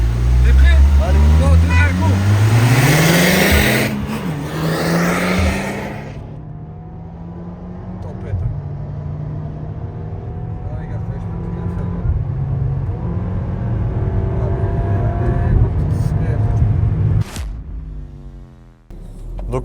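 An Audi S3 8P with a stage 1 tune accelerates hard, its engine roaring loudly and climbing through the revs with a gear change, then carrying on at a steadier drone as people talk in the car.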